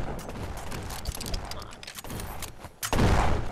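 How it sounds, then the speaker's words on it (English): Shotgun blasts from the online shooter game Venge, a string of sharp, busy gunfire bursts with mechanical clatter, ending in one loud, heavy boom near the close. "I kinda like the shotgun the most."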